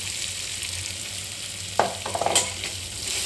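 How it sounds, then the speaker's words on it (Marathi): Coarsely ground peanut powder tipped into a hot frying pan with cumin, giving a soft sizzle and a few short scraping stirs near the end, no voices. "मग ह्यामध्ये मी थोडं जाडसर वाटलेलं शेंगदाण्याचं कूट घालत आहे"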